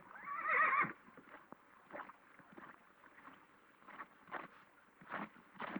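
A horse whinnies sharply at the start, then hooves clop unevenly at a moderate distance, with quiet stretches between the steps.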